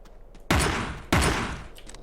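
Two heavy rifle bursts in the top-down shooter Teleglitch, each a loud sudden blast that rings out and fades over about half a second, close and with no talking.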